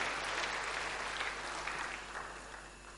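Congregation applause during a church sermon, a steady wash of many hands clapping that holds for a few seconds and gradually thins toward the end.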